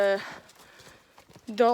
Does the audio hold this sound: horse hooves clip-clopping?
yes